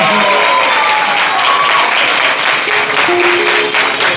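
An audience claps loudly and continuously after a devotional stage play, a dense even wash of applause with faint tonal sounds and voices woven in.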